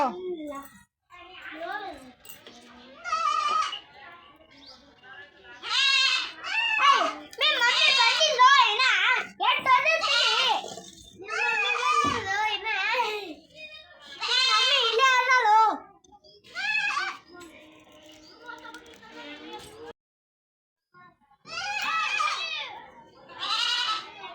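Sheep bleat repeatedly in wavering cries, with short gaps between calls. Voices can be heard mixed in among them.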